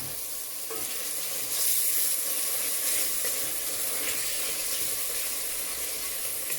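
Capers sizzling and frying in a hot pan after the heat is turned up, a steady bright crackle that swells briefly and then holds, close and alone with no talk.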